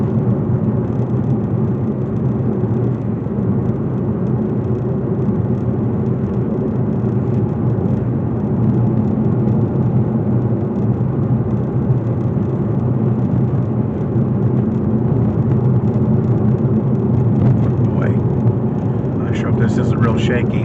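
Inside a moving car on rural Oklahoma roads near Pawhuska, a continuous low road-and-engine rumble with wind noise carries on steadily for the whole stretch, with talking heard over it.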